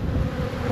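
Wind buffets an outdoor microphone beside a beehive, a low rumbling roar that fills the brief moment without any voice.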